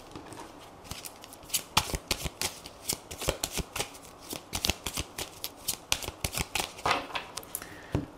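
Tarot cards are shuffled by hand in quick bursts of crisp riffling and slapping, a rapid irregular flutter of card edges repeating throughout, fairly close and alone with no talk.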